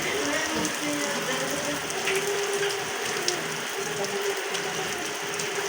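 Steady heavy rain pours down, a dense continuous hiss of drops on surfaces with a few faint knocks and clicks mixed in, no clear voices.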